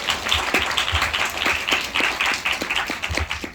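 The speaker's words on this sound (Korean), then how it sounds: "박수 한번 주시죠." An audience claps in a cinema during a film screening Q&A, a steady, moderately loud round of applause of many hands that holds evenly with a few sharper individual claps, and no talk over it.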